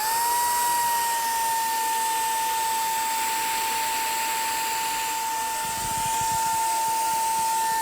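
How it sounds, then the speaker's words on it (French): A vacuum cleaner runs continuously with a steady high whine and airy hiss. The motor holds close and loud throughout, with a brief low fluttering near the end. "ASMR aspirateur."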